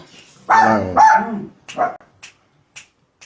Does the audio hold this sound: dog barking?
yes